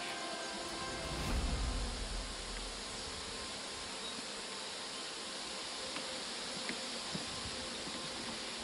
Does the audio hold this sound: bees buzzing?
yes